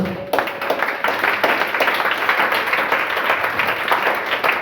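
A church congregation applauds to acclaim the Lord, with dense, steady clapping filling the whole stretch at an even loudness and no pause.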